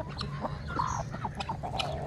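Chickens clucking and murmuring nearby, several short calls overlapping over a steady background hum.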